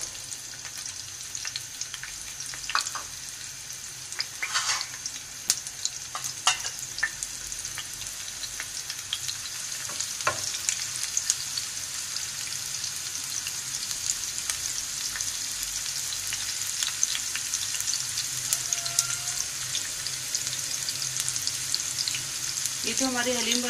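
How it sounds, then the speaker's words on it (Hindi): Chopped onions fry in about a cup of ghee for haleem, giving a steady, even sizzle with scattered crackles and pops throughout, fairly close and moderate in level, with faint clinks near the end. "अब 1 कप के करीब हम इसमें घी डाल रहे हैं। फिर प्याज डाल रहे हैं।"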